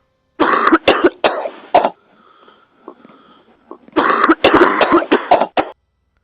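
A burst of harsh, repeated coughs, then a short pause with faint wheezy breathing, followed by another fit of several loud coughs close by.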